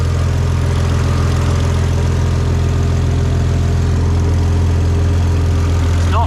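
A BMW N54 335i converted to a single turbo idles on its first start, with a loud, steady low engine rumble holding an even tone throughout and no voices over it.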